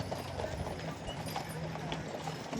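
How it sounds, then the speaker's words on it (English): Hooves of horses pulling loaded wagons on a wagon train trail near Lake Tahoe, California, clip-clopping in a steady overlapping rhythm close by, with outdoor background noise and occasional voices. "Look at these beautiful horses."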